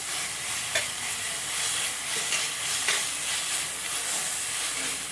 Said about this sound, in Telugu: ఇప్పుడు దీంట్లో మనము అల్లం వెల్లిగడ్డ పేస్ట్ వేసుకున్నాము